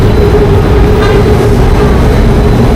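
An electric train in Thailand rumbles steadily past up close, a loud continuous roar with a faint hum, with no voices over it.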